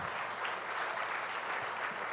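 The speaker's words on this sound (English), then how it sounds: "Ladies and gentlemen, please raise a warm applause" Steady, dense applause from a conference audience welcoming the Ayodhya Ram Lalla statue sculptor at the India Today Conclave 2024, sustained and even throughout without any voices.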